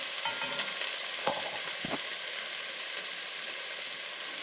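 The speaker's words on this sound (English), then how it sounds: "And we'll cook it until the tomatoes are soft." Tomatoes fry in a pan for pinakbet, giving a steady soft sizzle throughout with a few faint clinks and stirring scrapes, no voices.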